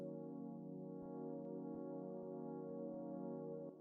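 Synth pad built from three slightly detuned FM sine-wave oscillators, a soft sustained chord that holds steady with a gentle beating shimmer, faint and alone, with light percussive ticks underneath.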